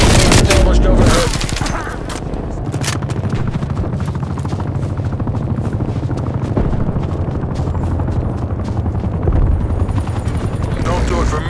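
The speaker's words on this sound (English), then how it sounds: "Hostile helo established overhead." Enemy attack helicopter hovering overhead in the Call of Duty Cold War shooter game, a steady loud rotor rumble running throughout, mixed with bursts of gunfire and explosions, while a voice speaks over it.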